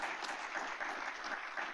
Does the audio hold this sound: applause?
yes